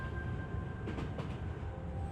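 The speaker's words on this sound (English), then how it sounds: "The train began to stop as it entered into the village." Train rolling into a village in an audio story, a steady low rumble of wheels and carriage with faint rhythmic clatter, continuous and fairly close.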